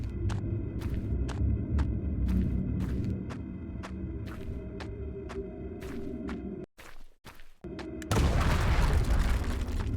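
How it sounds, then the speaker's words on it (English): A video game explosion in Hollowbody sounds like something breaking, with a sudden cutout and a burst of loud, broad rumbling noise near the end over steady low booming ambience and rhythmic thuds. "the explosion has a sound effect that makes it sound like something's potentially breaking"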